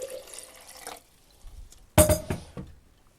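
Water from a tap splashes briefly into a film developing tank during rinsing, a short broadband gush after a quieter trickle, fairly close and with no talk.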